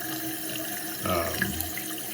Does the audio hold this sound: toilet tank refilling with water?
yes